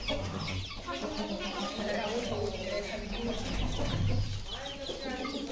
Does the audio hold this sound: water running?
no